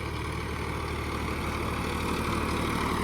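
A small tractor engine runs steadily nearby, a continuous low, throaty drone with a constant pitch and no voices.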